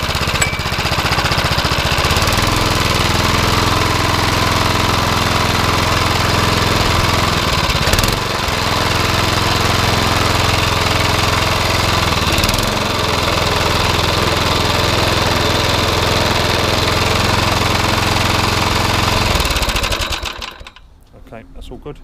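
A Suffolk Punch Qualcast lawn mower's small petrol engine runs steadily and loudly with a constant buzzing drone and a brief stutter around the middle, then cuts off near the end.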